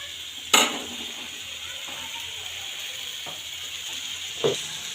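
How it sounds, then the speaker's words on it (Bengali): Tomatoes frying in oil in a home-kitchen pan, a steady soft sizzling hiss running throughout, broken by a couple of sharp utensil clicks and scrapes. "তো গাইস টমেটোগুলো একটু তেলের মধ্যে ভেজে নিছে"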